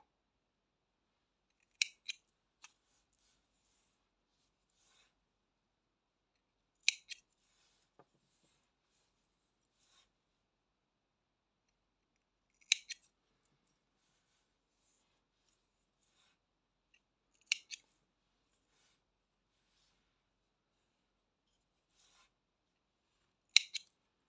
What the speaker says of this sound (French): on va prendre du fil rouge et on va couper